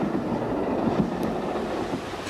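A Black 5 steam locomotive runs along the railway, heard as a steady, fairly distant rumble and rolling noise with faint rhythmic clatter and some wind, no voices.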